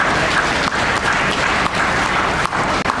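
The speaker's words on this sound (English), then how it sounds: "Claps, please." Sustained applause from a graduation audience, dense and steady clapping filling the room for the whole stretch with only brief dips.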